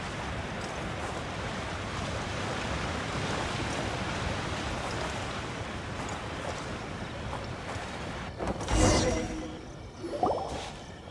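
Wind blowing in the Genshin Impact video game, a continuous broad rushing gust swelling toward the end, with a couple of brief whooshing surges.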